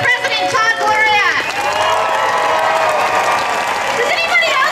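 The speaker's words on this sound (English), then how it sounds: "Another round of applause for Council President Todd Gloria." Outdoor crowd at a climate march rally in San Diego applauding a council president, a sustained wash of clapping and cheering under a speaker's amplified voice.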